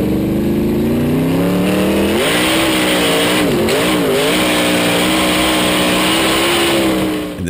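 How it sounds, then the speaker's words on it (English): Real 410 sprint car engine screaming at high revs, loud and close, with a brief dip and rise in pitch mid-way before holding steady. "Now this is what a 410 should sound like."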